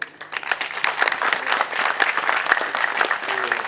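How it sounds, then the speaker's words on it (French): An audience applauds volunteers at a community knowledge fair run by associations, a steady patter of many hands clapping at moderate distance, with faint voices underneath. "je tiens vraiment à vous remercier et à vous applaudir"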